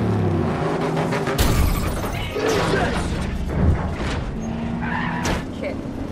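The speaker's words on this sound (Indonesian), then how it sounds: "tiba-tiba ada mobil asing menabrak dari arah belakang" Film scene of a car being rear-ended by another car: tires skid, then a crash with impact and breaking debris, followed by more engine and skidding noise under a busy, loud mix.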